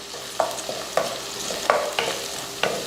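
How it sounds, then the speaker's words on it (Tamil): Steady sizzling of ginger garlic paste with turmeric sautéing in a pan, with a spoon scraping and stirring at irregular intervals, close and alone without voices. "இந்த டைமில் கொஞ்சமாக மஞ்சத்தூள் இதையே வதக்கிடணும்"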